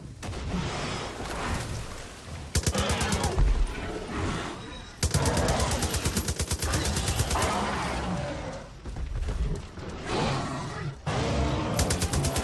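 Heavy bursts of automatic gunfire from a weapon in the Far Cry 5 zombie mode, rapid volleys firing in long stretches with brief pauses, loud and close over a constant rumbling game soundscape.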